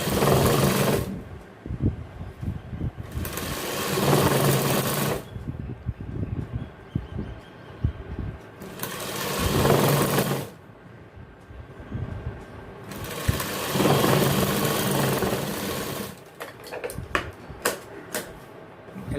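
Sewing machine stitching a pair of gents' trousers in a tailoring shop, running in three loud sustained bursts separated by quieter pauses, then short stop-start runs near the end.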